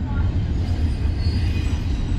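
A train rumbles past during the Tallapoosa Dogwood Festival in Georgia on a cold day. It makes a steady, loud, low roar with wheel noise and no clear breaks.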